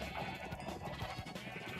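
Sheep bleating in Minecraft, a continuous wavering bleat lasting the whole short moment, close and fairly loud.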